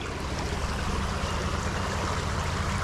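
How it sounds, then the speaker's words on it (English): Heavy creek water rushes in a steady, loud, continuous broadband flow close by, with no voices over it, at a trout fishing spot. "there was such heavy creek flow"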